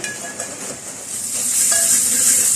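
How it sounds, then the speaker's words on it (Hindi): Onions fried on high heat in a pot for a trotter dish, giving a dense, close crackle and sizzle that swells louder toward the end, with faint clinks beneath it. "अब इसको आप इससे सुन रहे होंगे कि इसमें कितनी प्याज के चटकने की आवाज़ आ रही है।"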